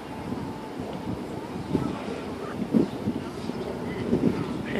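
An eastbound local train pulls away from Danforth station and fades into the distance, its low rumble steady under wind noise on the microphone, with a few soft clunks.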